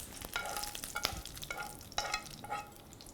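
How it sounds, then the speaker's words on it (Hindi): A hot tempering of oil and curry leaves is poured into yogurt, crackling and sizzling in short bursts with a clattering stir, a close kitchen sound with no talking. "ये तड़का जाएगा दही के अंदर।"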